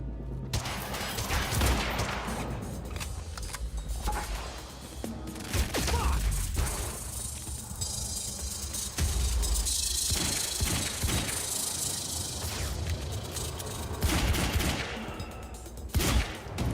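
Gunfire in the Quantum Break video game: sustained bursts of shots and rattling weapon noise running through the whole stretch, loud and dense, with little talk.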